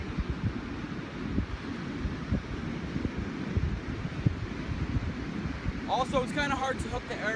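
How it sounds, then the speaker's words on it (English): Steady broadband wind rumble buffets the microphone throughout, with a brief snatch of speech near the end. "it is quite windy right now"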